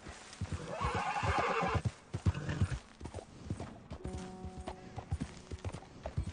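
In a video game, a horse whinnies loudly while hooves clip-clop steadily, then the hoofbeats continue under a few faint electronic tones.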